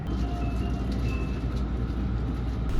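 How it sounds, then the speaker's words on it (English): The Limited Express Shirasagi train runs toward Fukui Station with a loud, steady rumble of wheels and motors, a constant low roar heard from close range, probably inside the car. "The train then slides into Fukui Station, the largest station in Fukui Prefecture."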